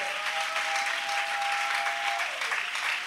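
An audience at a church gathering breaks into loud, sustained applause, a dense steady clapping that fills the room throughout, with a faint tone briefly beneath it.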